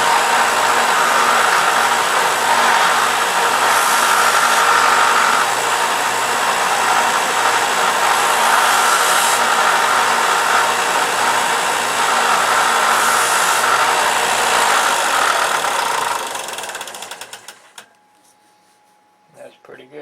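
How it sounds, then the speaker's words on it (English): A disc sander runs steadily as a wooden box door is squared up against it, a loud continuous whir with brief rises where the wood presses in, then spinning down and falling quiet near the end. "I'm going to square it up on the disc sander."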